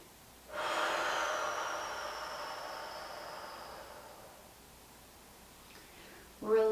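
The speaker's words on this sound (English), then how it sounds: "Let's take one more deep breath here." A single long, deep breath during a yoga flow: a steady airy inhale-exhale whoosh that swells quickly, holds for several seconds and slowly fades, close and clear, followed by a brief soft noise at the end.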